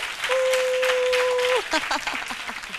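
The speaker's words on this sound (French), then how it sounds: "On applaudit pour elle." Audience applause at the launch event for the Wozo Vacances 2015 holiday programme, with scattered clapping under a sustained steady tone for over a second, followed by a voice and fading claps.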